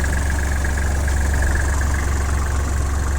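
A Kubota GL-21 compact tractor with a front loader and reverse PTO idles, its engine making a steady, even, close rumble with a constant mechanical whine and no speech.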